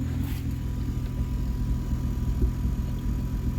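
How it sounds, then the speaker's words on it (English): Eclipse car engine under a build project idling at about 800 RPM, a steady low rumbling drone with a faint whine, continuous and even. "it's idling at like 800 RPMs"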